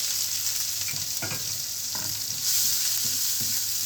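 Onions frying in butter in a pan, a loud, steady close sizzle broken by several scraping stirs.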